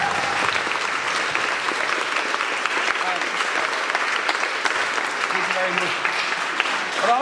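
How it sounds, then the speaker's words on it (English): An audience at a Hull fashion show applauds young fashion designers, a loud, sustained burst of clapping filling the room with a few crowd sounds mixed in. "So if we just give them a round of applause very quickly."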